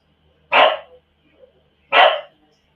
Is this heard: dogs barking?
yes